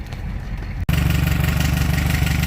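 A carbureted vehicle engine with a freshly changed carburetor and the choke open idles close by with a steady, throbbing low rumble after a brief cutoff.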